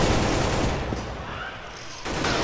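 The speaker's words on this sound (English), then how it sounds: "I just got shot through smoke, dude." Dense, loud gunfire from a first-person shooter played in a casual LAN match, a continuous roar of shots that thins briefly before surging back, with only faint voices underneath.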